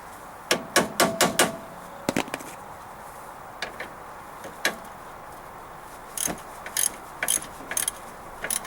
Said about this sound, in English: give this sway bar a tap with a hammer to knock the tape loose